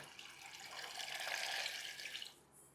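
Water pours from a container into finger millet (nachni) flour for papad dough, a soft rushing splash that swells for about two seconds and then stops.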